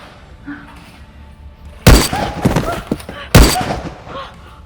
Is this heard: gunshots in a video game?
yes